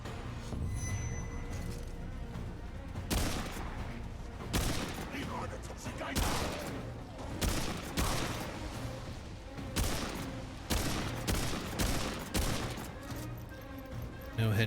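Rifle gunfire in the video game Remnant II, a steady run of sharp shots at irregular intervals over constant busy in-game background noise, with loud repeated bursts throughout.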